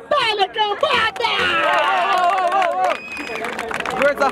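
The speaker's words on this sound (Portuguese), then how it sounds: "Palmas pra batalha, cambada!" A crowd at a Brazilian freestyle rap battle in Barueri cheers and claps loudly, with shouting voices and whoops dominating over scattered applause throughout.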